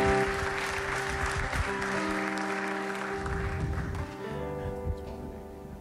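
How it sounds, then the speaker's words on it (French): Church congregation applauding during a French-language sermon, a steady wash of clapping with low rumble and some sustained tones underneath, easing off toward the end. "Bon mettre d'applaudissements."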